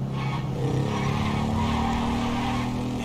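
A car speeding along a road in GTA 5, with a continuous engine roar and a rising whine of tires skidding, loud and close throughout.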